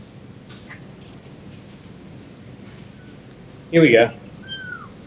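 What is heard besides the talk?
kitten meowing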